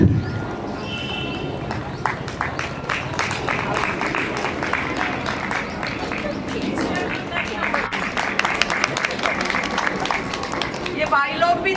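Dense, steady clapping from an audience welcoming a guest at a school retirement ceremony, sustained at an even level for about twelve seconds with crowd murmur mixed in.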